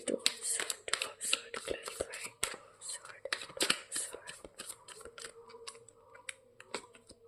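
Tarot cards are shuffled and drawn close up in a quiet room, making soft crisp flicks and quick riffling taps under hushed whispering.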